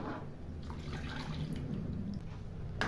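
Milk poured into a thickening rice mixture, a brief quiet liquid pour with gurgling and light splashes, close and low in level with no speech.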